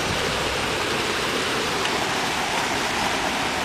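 A creek fed by clay-laden runoff from a construction site rushes under a bridge, giving a steady, dense broadband wash of flowing water, close and unbroken, with no voices.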